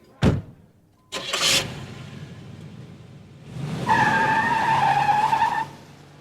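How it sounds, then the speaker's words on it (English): A radio-drama effect of a car leaving at night: a sharp door slam, then a second thud, a short pause, and an engine that starts and revs loudly for a couple of seconds before cutting off. "I drove to the Bjornsson place to check on Barbara"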